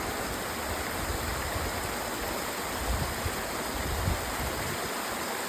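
A hot spring stream on a mountain trail rushing over slippery rocks, a steady close broadband water roar with no voices.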